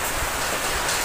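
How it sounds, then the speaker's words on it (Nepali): Heavy rain falls in a steady, dense hiss, a loud, unbroken wash of noise with no voices. "कत्रो पानी परेको पानी परिरहेको छ"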